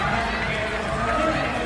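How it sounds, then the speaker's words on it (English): A large stadium crowd roars at a women's 400m race in Tampere, a broad, sustained wash of cheering heard loud and steady, with commentary over the top. "A big roar from a big crowd."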